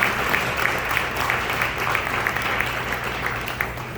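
Gala audience at an Oscar Grant Foundation event breaks into steady applause, a broad continuous patter of many hands with a few sharper claps, fairly loud and sustained throughout.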